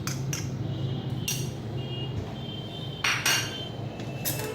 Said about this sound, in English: I'm mixing the ghee thoroughly to give it a nice glaze and a fragrance